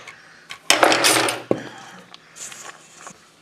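Vegan peanut butter cookie ingredients whisked in a bowl in a short burst of metallic scraping and clatter, broken by a sharp tap on the rim, then quieter rustling.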